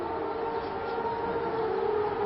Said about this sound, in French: Après 45 minutes de répit, une sirène retentit.